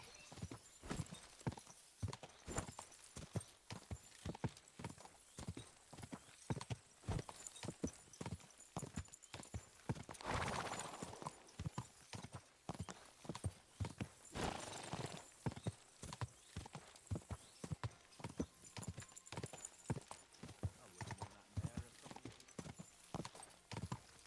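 Horse hooves clip-clop in a steady, quick rhythm throughout a ride in the video game Kingdom Come: Deliverance II, with a whinny breaking in near the middle.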